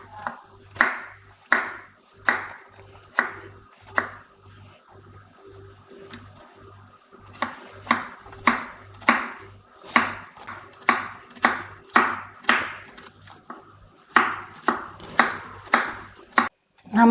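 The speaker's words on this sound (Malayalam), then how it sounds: "കയ്പ്പയ്ക്ക ചെറുതായിട്ട് അരിഞ്ഞെടുക്കാം." A knife slices halved bitter gourd thinly on a board, with close, crisp chops in quick bursts of rhythmic strokes separated by short pauses.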